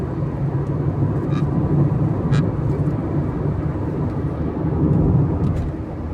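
A car on a road trip in Gujarat gives a continuous loud road and engine rumble from inside the cabin, with a couple of brief sharp clicks over the steady drone.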